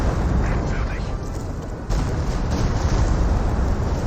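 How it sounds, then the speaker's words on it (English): A rocket barrage in the strategy game Company of Heroes 2 lands as a dense, continuous rumble of explosions, loud and sustained throughout. "Got another rocket barrage raiding on in."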